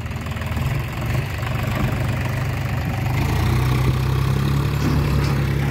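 A John Deere 5050D tractor engine runs at a steady, close idle after starting, a continuous low diesel rumble with a slight knock that grows a little louder toward the end.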